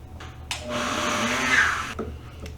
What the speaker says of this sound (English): So I'm going to get this all pulsed up and ground